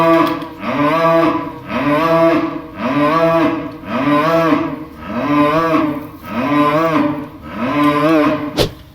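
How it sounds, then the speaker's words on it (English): Lactating dairy cows on a farm moo loudly and close by, with six or seven long, drawn-out lows following one another in a steady rhythm, then a brief sharp knock at the end. "these are the lactating cows"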